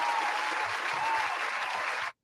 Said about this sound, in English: I'm going to clap him up.